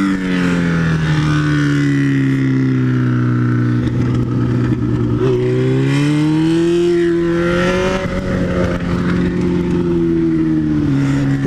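A Kawasaki B-King motorcycle engine drones loudly up close, revving up and down with rising and falling pitch throughout.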